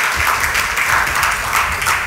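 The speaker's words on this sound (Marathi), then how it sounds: "टाळ्या वाजून प्रभूला धन्यवाद देऊया." A church congregation applauding in thanks to the Lord, a loud, steady, dense roar of many hands clapping together, with no voices above it.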